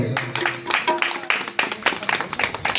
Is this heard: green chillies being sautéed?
no